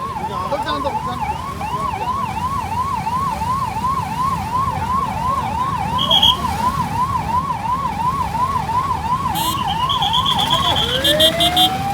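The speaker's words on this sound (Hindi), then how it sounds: "भाई पीछे एम्बुलेंस आ रही है, आगे करो।" An ambulance siren wails in steady, repeating up-and-down cycles while stuck in a traffic jam, loud and close over the hum of traffic, with horns and brief tones breaking in near the end.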